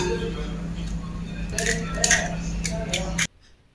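A utensil stirs baklava batter made with milk, yogurt and egg in a bowl, making light scraping and clinking against the sides that grows busier before stopping abruptly.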